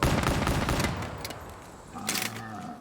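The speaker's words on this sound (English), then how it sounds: "Let's just take a few shots at a few targets and see what kind of energy transfer we get out of this 20 millimeter." A 20 millimeter gun in a zombies-mode shooter video game fires a rapid burst of loud, heavy shots that tails off, followed by a couple of fainter mechanical clacks.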